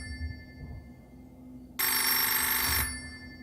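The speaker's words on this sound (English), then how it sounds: "Ringing? You're not even a real phone. And you're ringing?" A phone rings once with a loud, bright electronic trill lasting about a second, heard alone over a faint background hum.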